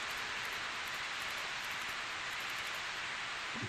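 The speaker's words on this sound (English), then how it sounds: "here we have very loud rain" Loud, steady downpour of rain in the PS2 game Disaster Report, hissing continuously with no pauses, dense and close, with no voices.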